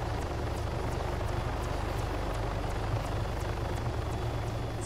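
A large helicopter in ARMA 3 thunders close by, its rotor beating a fast, even rhythm over a constant turbine roar that holds loud and steady throughout.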